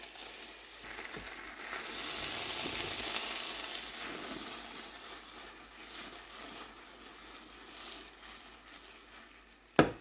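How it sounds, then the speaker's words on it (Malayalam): Bread slices soaking up milk in a hot pan for banana pudding, giving a continuous soft sizzle and bubbling at close range with a brief knock near the end. "ഇനി ഇത് ഈ പാലെല്ലാം ഇതെല്ലാം ഒന്ന് അബ്സോർബ് ചെയ്യുന്ന വരെ ഒന്ന് ബോയിൽ ചെയ്യാം"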